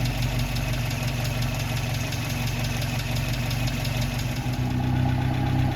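A 1954 MG TF engine idles steadily at close range, a low even rumble with a faint mechanical tick running throughout, no talking, the level holding constant and swelling slightly near the end.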